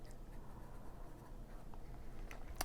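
Fountain pen with an elastic fine nib scratching across paper, a faint steady rasp of continuous handwriting under a low background hum.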